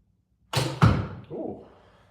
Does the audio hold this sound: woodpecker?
no